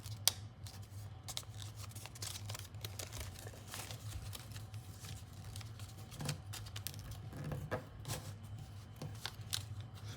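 Paper being folded and creased for a SAAB-37 Viggen model, with dense, close crinkling and rustling taps coming in quick irregular bursts over a steady low hum, with no talking.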